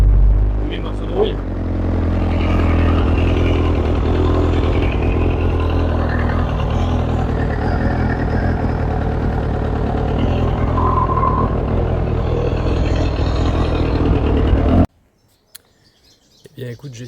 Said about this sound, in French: T'as pu voir que la moto a eu un peu de mal à démarrer.